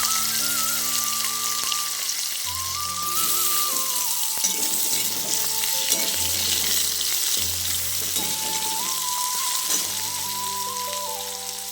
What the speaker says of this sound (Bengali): 5 ফোড়ন দিয়ে আমি প্রথমে আলুগুলোকে ভালো করে ভেজে নেব।